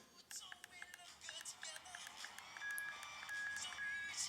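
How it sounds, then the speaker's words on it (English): SoundPEATS A1 Pro wireless Bluetooth headset playing a short repeated beeping notification tone that marks maximum volume, a series of faint electronic pips over quiet background with a brief voice. "you can hear that notification tone as well, indicating that it has reached maximum volume"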